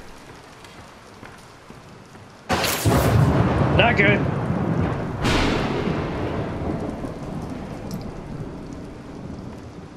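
Video game Bendy and the Dark Revival: a sudden loud thunderclap cracks and rolls on as a second boom follows, over a steady hiss of heavy rain that fades slowly, with a brief spoken remark.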